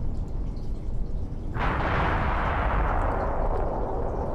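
A single heavy boom of howitzer artillery fire in a video game, a sudden blast followed by a long rumbling decay over steady low background noise.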